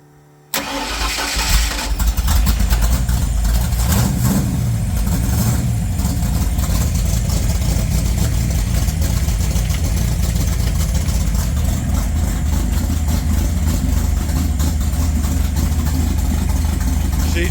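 A 1981 Ford Mustang Foxbody engine cranks and catches, then settles into a loud, steady, slightly rough idle close by that runs unbroken for the rest of the clip.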